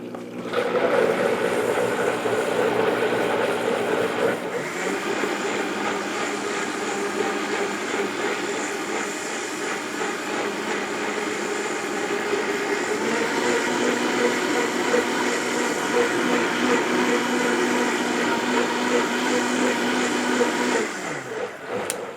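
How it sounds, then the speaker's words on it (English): A kitchen mixer runs alongside an Instant Pot, giving a loud, steady motor whir that shifts in tone after a few seconds and holds for about twenty seconds before cutting off abruptly. No talking. "I wonder if we can run both the Instapot and the mixer at the same time."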